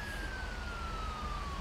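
Police siren in GTA 5, a loud continuous wailing tone that slowly falls in pitch, mixed with dense road and engine noise.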